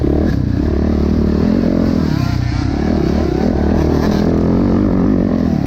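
Two-stroke dirt bikes race on a mountain-top course, their engines a loud, continuous rasping buzz close by, with clattering and scraping over a dense, unbroken roar.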